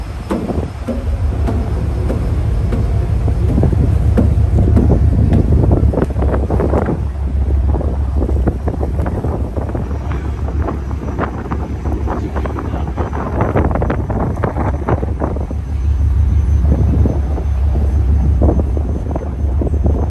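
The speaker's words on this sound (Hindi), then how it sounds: "ठंडी ठंडी हवा चल रही है समंदर की" Cool sea wind blows across a boat deck in Istanbul, a loud, continuous rushing buffet over a low steady rumble, with gusts swelling and easing throughout.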